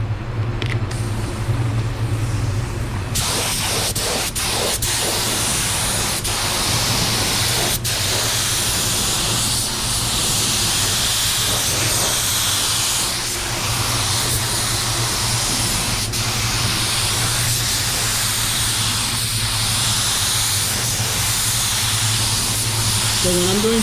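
Paint sprayer laying down the first coat, a loud continuous hiss that runs unbroken and close throughout, over a low steady motor hum, with a few faint clicks near the start.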